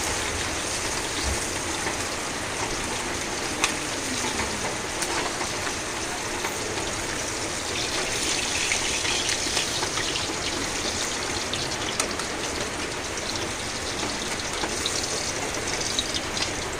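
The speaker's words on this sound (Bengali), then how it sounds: "বাহিরে কিন্তু বৃষ্টি হচ্ছে।" Rain falls outside as a steady, unbroken hiss at moderate volume, even and continuous from start to finish, with no voices heard.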